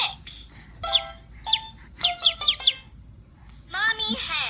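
A voice mimics a mother hen and her chicks, giving bursts of clucks and high peeping calls in quick runs with short pauses, close and fairly loud, ending in a longer wavering cry.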